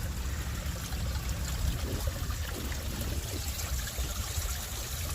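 Water leaks and trickles along the rocky shore of Manila Bay, a continuous close splashing, gurgling flow with no pauses.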